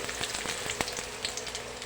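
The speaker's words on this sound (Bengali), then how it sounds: "এই দেখো পেঁয়াজটা ভাজা হচ্ছে" Continuous oily sizzling of onions frying in oil, with scattered crackles and light taps from stirring, close and fairly loud.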